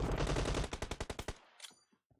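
Automatic weapon gunfire in PUBG Mobile, a loud close burst of rapid shots that slows into a few spaced cracks and then fades into silence.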